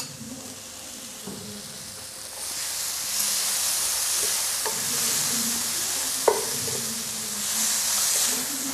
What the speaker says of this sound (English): We'll just mix it nicely and not cook it for too long, just like maybe 2-3 seconds.